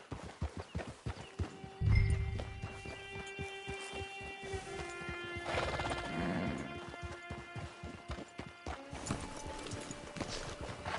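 Horse hooves clop in a steady rhythm in Red Dead Redemption 2, with a loud whinny near the start and game music playing underneath.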